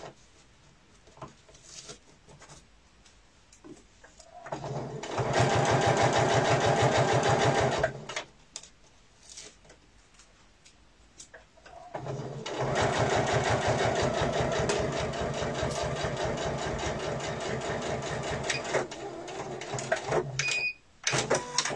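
A sewing machine stitches fabric in two long runs, a loud rapid mechanical whir near at hand, with quieter gaps of handling and fabric rustle between and around them.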